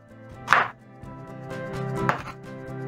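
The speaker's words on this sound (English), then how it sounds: "Pick 1 onion and cut into large wedges" An onion being cut into large wedges on a board, with two distinct knife chops about a second and a half apart, close and clear over a low background hum.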